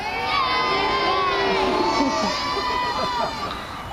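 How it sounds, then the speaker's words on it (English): A crowd at a naval warfare battle show in Peasholm Park, Scarborough, lets out a big practice cheer for Rotherham United, loud and sustained, full of high children's shouts and whoops that fade slightly at the end. "So a nice big practice cheer for Rotherham United."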